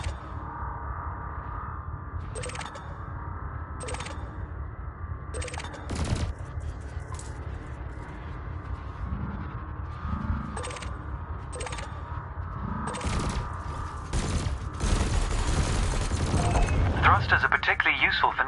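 Spaceship weapons firing at floating canisters in the space game Elite, a run of sharp blasts repeating at irregular intervals over a steady low engine hum, growing denser and louder toward the end.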